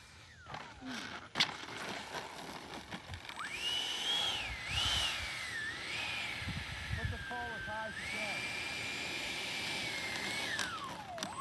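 A Freewing F-4D Phantom RC jet comes in to land. Its ducted-fan whine sweeps up and down in pitch and holds a steady, fairly loud roar, with brief voices and outdoor noise around it.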